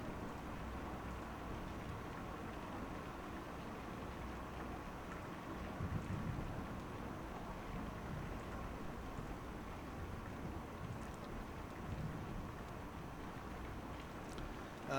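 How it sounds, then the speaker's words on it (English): Heavy rain pours steadily in a video game, Kentucky Route Zero, a dense hiss with low rumbling underneath and a few faint crackles, no one speaking. "It's raining pretty hard."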